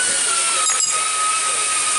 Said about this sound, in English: What I like to do is I take this bolt loose, the one on the bottom.